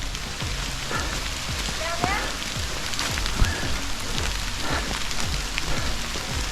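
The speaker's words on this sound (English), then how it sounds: "It's raining a little bit." Light rain falling on a trail during a hike near a creek, a steady soft patter with scattered drops and some faint footsteps or rustling throughout, close and continuous without clear talk.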